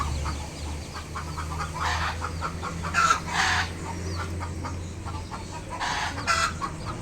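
Chickens cluck in a backyard coop with plastic chicken wire, repeated short clucks and a couple of louder calls rising over a low steady hum; no speech.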